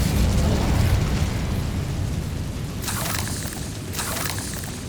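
A fiery spell blast booms in the Hogwarts Legacy video game, a loud sustained explosive roar with crackling bursts layered over it, no voices.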